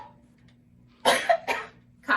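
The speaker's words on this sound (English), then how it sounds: "coughing into your elbow, excuse me" Two sharp coughs in quick succession, followed by the start of a third, close up over a quiet background hum.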